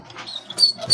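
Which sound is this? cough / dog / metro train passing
dog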